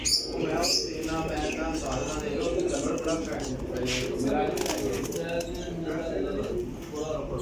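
Low cooing of Rampuri pigeons repeating through a busy flock, with chirps and a person's voice talking over the birds.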